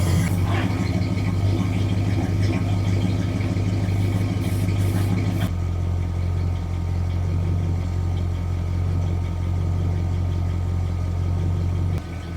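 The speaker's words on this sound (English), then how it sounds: "Sit here and idle for a bit while I clean the car off." A 1972 Ford Ranchero GT idles steadily close by, a deep, even engine rumble that holds its tone the whole way, with a slight drop in pitch about halfway through.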